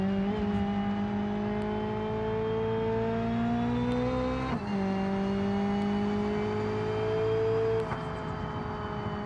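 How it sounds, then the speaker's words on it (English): A turbocharged car engine accelerates under load in a sustained rising whine and drone, with a brief dip around a gear change midway before the pitch climbs again, loud and close throughout, no talking. "I love hearing the turbo spool up in this thing."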